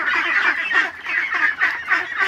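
A flock of farm ducks calls in continuous, overlapping honking quacks close by, rising and falling in loose repeated bursts with no talking.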